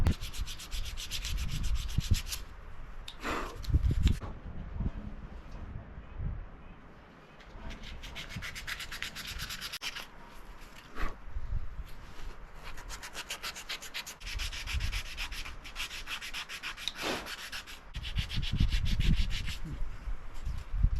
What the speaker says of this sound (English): it's time to take and hand sand it for a little while and get it smooth